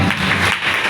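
Congregation clapping hands in praise at a church worship gathering, a dense, steady burst of applause lasting about a second without speech.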